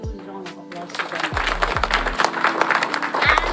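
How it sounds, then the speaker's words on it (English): An audience at a school science exhibition breaks into applause, a burst of mixed clapping building up over a few seconds after a low musical tone fades, fairly close and lively. "So please give a huge round of applause to them."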